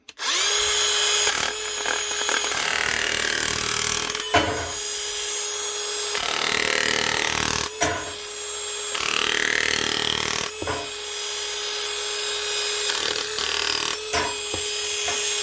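Metabo cordless nibbler cutting through sheet material, a loud high-pitched whining chatter in long bursts separated by brief pauses as the trigger is released and squeezed again.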